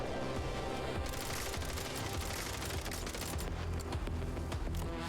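An SMG fires in the video game Mindseye as a dense, rapid stream of gunfire with sharp cracks over a constant roar of game noise, loud from start to finish.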